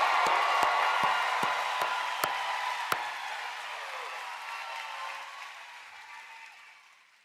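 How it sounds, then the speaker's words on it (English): Commencement crowd applauding graduates seated on the arena floor, a broad wash of clapping and cheering in a large hall that gradually fades out, with a few sharp claps standing out early on. "Audience members, let's give them a big round of applause."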